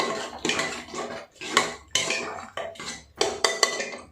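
A metal spoon scrapes and clatters against a pan of chhole vegetables being roasted, in irregular strokes, close and fairly loud, with brief pauses between stirs.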